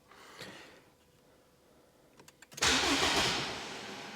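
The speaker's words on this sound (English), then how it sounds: "as soon as I hit the starter switch, it thinks I'm trying to start it again" A car's engine cranks briefly on the starter and then catches, jumping to a loud, steady running sound after a quieter stretch of faint mechanical clicks.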